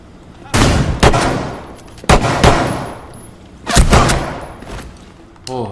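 Loud, close gunfire in Ghost Recon Wildlands: several sharp single shots and short bursts arrive in clusters, each crack decaying into a rumbling echo, with quiet pauses between the volleys.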